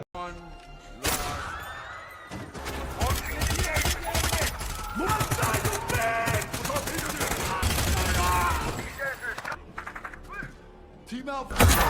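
Bursts of gunfire from a hostage-taker in the action film Black Lotus, loud rapid shots mixed with crashes, music and scattered voices across most of the scene, ending in a brief quieter stretch before a final loud hit.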